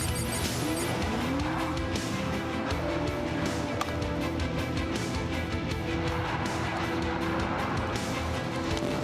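A race car in the Gran Turismo video game laps a circuit: a steady, dense engine drone with tire squeal, running continuously without pause.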